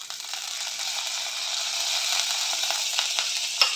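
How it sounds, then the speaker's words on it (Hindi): Cumin, fenugreek and chilli sizzle and crackle steadily in hot mustard oil, a constant bright frying hiss with small pops and stirring clicks, close and fairly loud. "इसमें हम डालेंगे जीरा, मेथी और मिर्चा का तड़का।"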